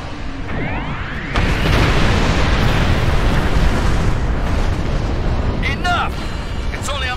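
Star Trek Online's Doomsday Weapon fires and sets off heavy explosions, with a sweeping energy blast giving way to a sustained, loud rumbling roar of detonations and debris, and sharp zapping bursts near the end.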